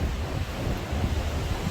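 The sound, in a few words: strong wind at castle at night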